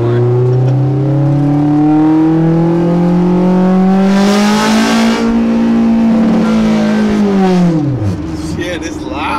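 Loud Honda S2000 engine heard from inside the car while driving, the tone climbing steadily under acceleration before falling away as it slows, with voices talking over the engine.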